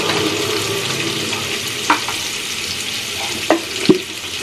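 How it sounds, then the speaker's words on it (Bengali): Onions frying in a pan, giving off a steady, close sizzle with a few sharp clinks from stirring near the end. "পেঁয়াজটা এবার ভাজব।"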